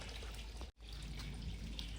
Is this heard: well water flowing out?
yes